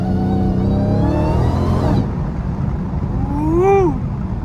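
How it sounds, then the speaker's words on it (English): Dodge Hellcat V8 with a supercharger, a steady loud engine drone rich in harmonics that drops off, then a rising and falling rev swell with a whistling supercharger whine near the end, heard from inside the car. "I know that whine sound crazy though in the neighborhood, cause the car not loud"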